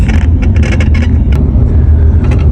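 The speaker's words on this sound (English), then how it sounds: "We're driving through this area" A car driving along a stretch of road, with a steady low engine and road rumble throughout and brief lighter whooshes and rattles on top, heard from inside or close by.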